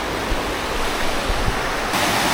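Strong river current rushing where two rivers meet, a continuous broad roar of churning water, steady and loud with no voices.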